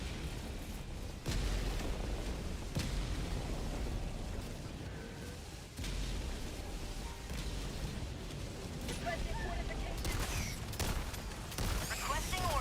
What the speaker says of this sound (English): I think it's a bad walking barrage.